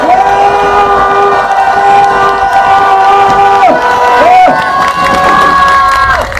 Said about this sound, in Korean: 그분들을 위해서 다시 한번 큰 박수와 함성을 보내주시기 바랍니다